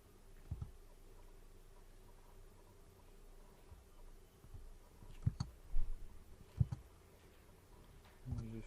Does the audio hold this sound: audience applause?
no